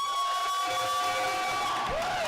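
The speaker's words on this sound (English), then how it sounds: "I want you to cheer as loud as you can." Spectators at a combat robotics event cheer and whoop together, a sustained roar with high shouts from the crowd at a loud, steady level from start to finish.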